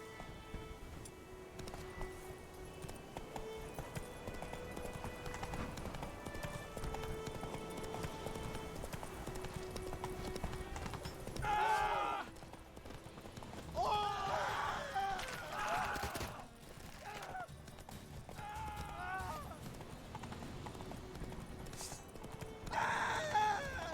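Horse hooves clip-clopping at a gallop in The Witcher 3, a steady rhythmic beat under game music, with brief bursts of other game sounds and a voice speaking partway through.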